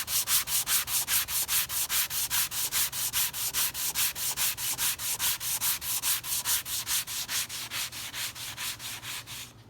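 Sandpaper rubbed in fast, steady back-and-forth strokes over a thin wood veneer guitar rosette, close and loud, with even rhythmic swishes throughout and no talking.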